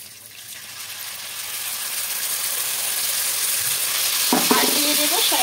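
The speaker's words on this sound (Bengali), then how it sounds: "এবার এখানে দিয়ে দেব টমেটো সস।" Tomato sauce added to lightly fried onions in a pan, a steady sizzle that grows louder, then rattling stirs with a spoon near the end.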